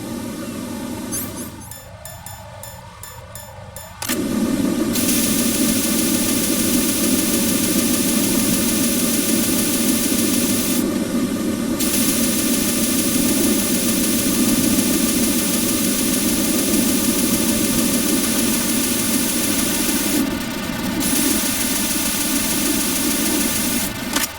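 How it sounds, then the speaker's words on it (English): Coolant spray from the stealth game Metal Gear Solid 2 used on a fire: a steady, loud hissing spray that runs continuously after a short quieter start, with no talking. "Es el spray refrigerante para controlar el fuego."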